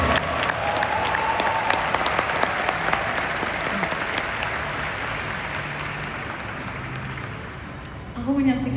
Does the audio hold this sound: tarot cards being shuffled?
no